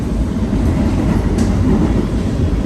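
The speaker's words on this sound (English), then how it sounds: "that is a quick early summer view of riding the A train to Far Rockaway" A New York City Subway A train running toward Far Rockaway across Jamaica Bay, a steady loud interior rumble and rail roar with faint clatter, continuous and unbroken, no voices.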